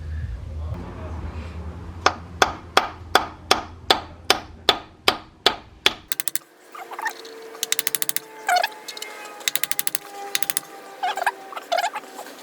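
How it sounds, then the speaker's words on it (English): A hammer gives about a dozen light, evenly spaced taps on a metal socket, seating a pilot bearing during a T56 Magnum six-speed swap on a Mk4 Toyota Supra. Quieter clinks and rattles follow. "lightly tap it with a hammer, and then it should all go flush in"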